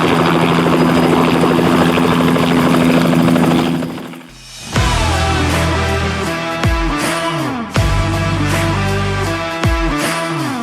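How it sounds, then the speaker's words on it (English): A helicopter's rotor thumps steadily and loudly overhead, then fades briefly before beating again close by during a rhino relocation operation, with rhythmic chopping pulses throughout. "the unmistakable sound of a helicopter rotor filled the air"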